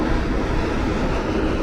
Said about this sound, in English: So a train pulled by two locomotives.